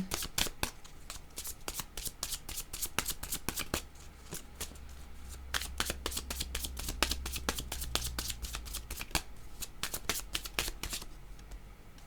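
Oracle cards being shuffled by hand, a long run of crisp, rapid riffling and flicking clicks with brief pauses, close and fairly quiet, with no talking over it.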